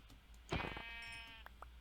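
A single sheep bleats in the video game Minecraft, one wavering, fairly clear call standing out against faint background noise.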